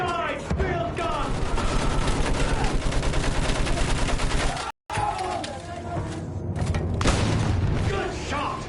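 A field gun fires amid loud, continuous World War I battle noise in Battlefield 1, heavy booms layered over rattling gunfire, with soldiers shouting throughout and a brief cut to silence midway.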